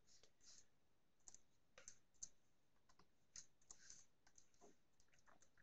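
Faint, scattered light clicks close by, quick irregular taps from a computer mouse and keyboard in a quiet room, with no talk.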